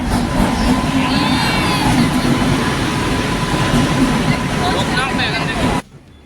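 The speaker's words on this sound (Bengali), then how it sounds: "এই যে ট্রেন ঢুকছে" The Torsa Express rumbles and clatters steadily nearby as it pulls into New Jalpaiguri station, with high metallic squeals from the wheels before the sound cuts off abruptly.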